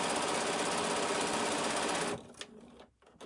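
A sewing machine stitches over fabric binding on a scrap-fabric pincushion, running as a loud, steady, rapid whir for about two seconds before stopping and leaving quieter handling sounds.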